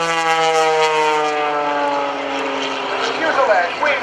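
A propeller airplane flies aerobatics at the 2014 NAS Oceana airshow, its engine a steady droning hum with a slowly falling pitch as it passes, heard under a commentator's voice over loudspeakers.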